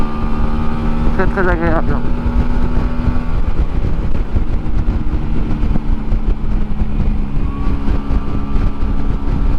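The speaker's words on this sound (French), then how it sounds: "au ralenti c'est magnifique, ça, vraiment le bicylindre" A 125 cc twin-cylinder custom motorcycle idles with a steady low rumble, with some wind noise, while someone speaks briefly over it near the start.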